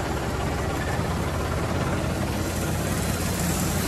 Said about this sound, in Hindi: बिल्कुल सिलो पे चलता है ट्रैक्टर